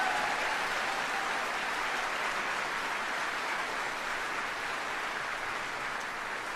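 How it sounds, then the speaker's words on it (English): Steady, sustained applause from a large audience fills an Army general officer retirement ceremony, an even wash of clapping with no breaks and no voices over it. "let's all give them a round of applause"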